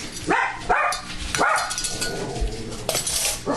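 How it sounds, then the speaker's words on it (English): Several dogs bark repeatedly at night at a moderate distance, sharp overlapping barks with short gaps, some yips mixed in. "Gotta love all the dogs, right? They are noisy tonight."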